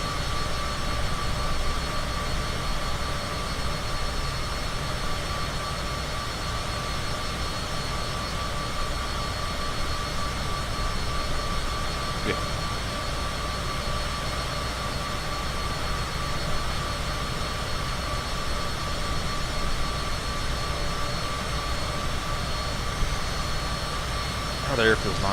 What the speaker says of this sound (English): You can only hear the plane.